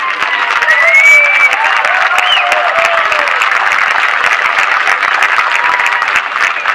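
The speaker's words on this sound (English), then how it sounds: "let's give a huge round of applause to Jim LeBlanc" An audience at an event breaks into sustained applause, dense clapping from a crowd holding steady throughout with a few whistles and faint cheers.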